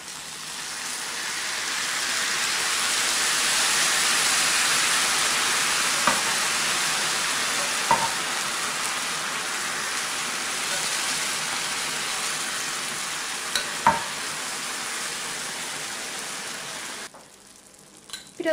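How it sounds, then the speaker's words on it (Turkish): Warm syrup poured straight onto hot pistachio kadayif fresh from the oven, a steady broad hiss and soft sizzle like light rain that runs evenly for about seventeen seconds before stopping, with a few faint clicks along the way. "Tatlım da fırından çıkardığım gibi şerbeti döküyoruz."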